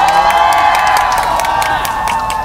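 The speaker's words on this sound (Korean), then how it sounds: "박수 부탁드립니다, 여러분." A rally crowd opposing the cancellation of Seoul autonomous private high schools cheers and claps outdoors in light rain, a dense sustained roar of voices and hands that stays loud throughout.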